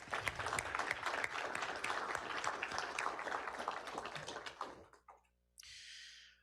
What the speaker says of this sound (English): I think it is fitting to give them a big round of applause